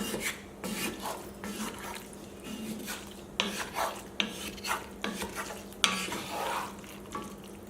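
A ribeye steak sears in a pan for stroganoff, with steady frying hiss and repeated scraping and stirring strokes as it is flipped and its sides browned, the utensil clatter swelling in bursts toward the end.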